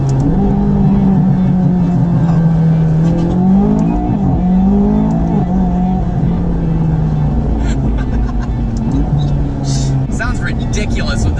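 McLaren engine with a straight pipe exhaust and the engine bay cover removed, revving loud and close with rising and falling pitch sweeps, under a voice talking over it.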